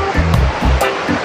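A large waterfall in the Quebrada Las Perdices gorge near Guayabetal, Cundinamarca, roars in a loud, steady rush of falling water, with a few low thumps underneath.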